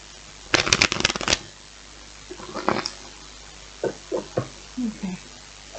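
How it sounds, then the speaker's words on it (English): A deck of tarot cards riffles and flutters in a quick burst up close, followed by a few softer taps and rustles. "last shuffle."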